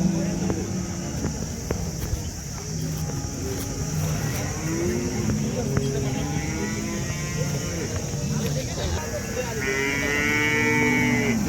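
HF and Jersey cows moo repeatedly at a busy cattle market in Baramati, with long drawn-out calls near and far while people talk and vehicles hum in the background.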